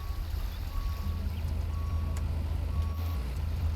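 Steady, evenly spaced reversing beeps from a tractor backing up in the video game Lumberjack's Dynasty, faint over a low engine rumble, with no talking.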